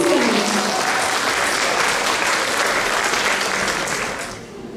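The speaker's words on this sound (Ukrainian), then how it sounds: "Зустрічаємо оплесками!" A studio audience on a family television show bursts into loud, dense clapping that holds steady, then begins to thin and fade near the end.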